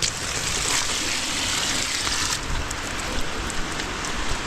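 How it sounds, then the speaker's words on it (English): Rain falls steadily into a rain-collecting container inside a greenhouse, a constant close patter and hiss of drops with slight surges and no talking. "we're still getting some rain in there"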